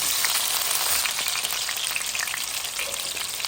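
Steady, loud sizzling of sliced tomatoes frying in hot oil and melted butter in a pan, a continuous crackling hiss throughout with no voices.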